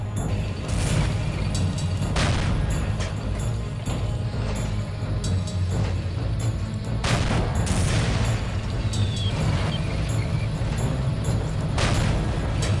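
Tank cannon fire with armour-piercing shells during the Villers-Bocage mission of Soldiers: Heroes of World War 2, repeated booming shots amid a continuous din of battle and distant gunfire.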